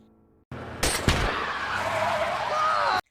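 Two sharp gunshots crack out, and a car whose tire has been shot skids out of control with a long, loud tire screech and an engine rumble.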